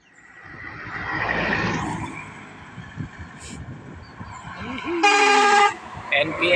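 A bus sounds its telolet musical horn near the end, a loud, bright burst of toots lasting under a second, after passing traffic and engine rumble, with voices talking in the background.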